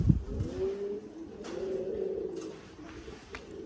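Pouter pigeons coo up close in a low, rolling series of throaty calls, repeated twice over a few seconds with no voices around.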